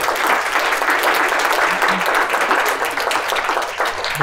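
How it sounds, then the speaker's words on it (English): Audience at a consulting strategy talk giving a round of applause for the panelists, loud, close and sustained clapping at a constant level, with a few voices murmuring underneath. "Let's give one more round of applause for all of our panelists."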